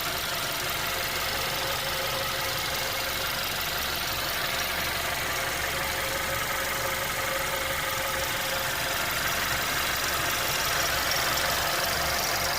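A cold Audi A3 1.4 TFSI, just fitted with a new timing chain, idles steadily with an even mechanical hum and light ticking, heard alone at close range.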